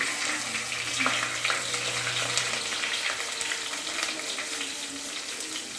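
Garlic, ginger and green chilli sizzle steadily in hot oil with curry leaves, a dense continuous hiss with a few soft stirring clicks, close and fairly loud, no voices.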